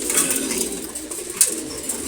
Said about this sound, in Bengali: খাকি কবুতর